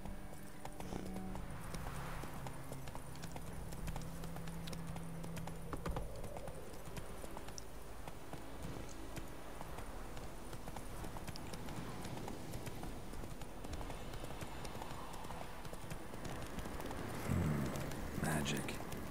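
Horse hooves clip-clop at a steady gallop in The Witcher 3 video game, running continuously with game ambience and a voice talking over it.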